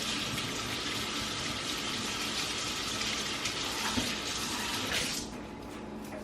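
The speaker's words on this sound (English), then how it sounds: "I'm gonna wash it off with some warm water, with a sponge" Warm water runs steadily from a tap over a can being scrubbed with a sponge, a continuous close hiss that drops off sharply near the end as the flow is cut.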